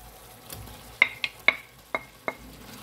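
Pieces of grouper fish are laid into hot oil in a pan, producing five or six sharp sizzling crackles spaced about half a second apart over a quiet background.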